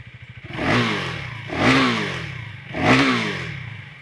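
Close, loud exhaust of a KTM 390 Duke motorcycle revved hard toward 7,000 RPM: three distinct blips, each surging up and falling back, after a brief rapid idle pulse at the start.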